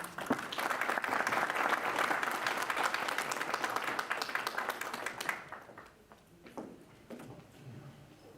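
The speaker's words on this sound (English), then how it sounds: "Please welcome with a round of applause, Raghib Hussain." An entrepreneurship series audience breaks into sustained applause to welcome a speaker, dense and steady for about five seconds before thinning into scattered claps and fading.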